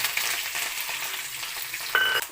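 Curry leaves, mustard seeds, cumin and lentils fry in hot oil with a dense, steady crackling sizzle, close up and uninterrupted by voices.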